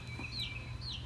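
Baby chicks peep and cheep in short, high, sliding calls, two or three close chirps over a steady low hum in a brooder setting.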